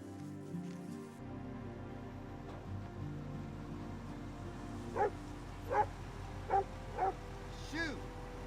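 A dog barks about five times in an outdoor country setting, spaced sharp yaps at medium distance over a steady low hum and faint background sounds.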